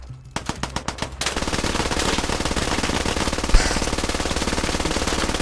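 Sustained automatic gunfire in the video game Squad on the Favelas mod, a fast rapid rattle after a few spaced opening shots, loud and continuous with one sharper burst partway through.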